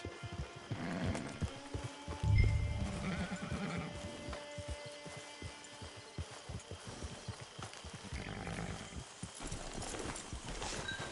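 Horse hooves clip-clop in Red Dead Online, with a steady rhythmic walking gait close by and a horse whinnying, set against a quiet game soundscape.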